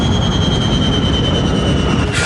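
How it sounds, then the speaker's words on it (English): Avianca airliner jet engines losing power after running out of fuel make a loud, steady roar with a thin high whine, shifting slightly at the very end, with no speech over it. "The passengers can hear the sound of the engines beginning to shut down."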